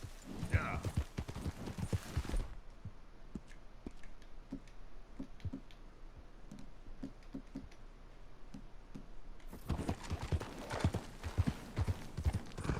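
Horse hooves clip-clop in the video game Red Dead Redemption 2, crisp, close, uneven beats of several horses moving at a walk, quieter and sparser in the middle stretch before picking up again.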